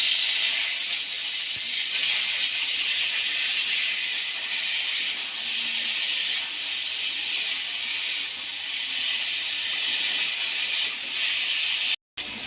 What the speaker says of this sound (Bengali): এবার ওই তেলের মধ্যে আমি কাঁকরোলগুলো ভেজে নেব।